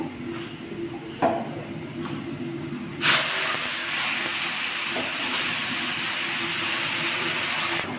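A sudden loud hiss bursts out and holds steady for several seconds as water is poured into a hot pan of rice for beef tehari, following a few soft clinks.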